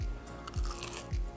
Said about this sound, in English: I really hope you hear that crunch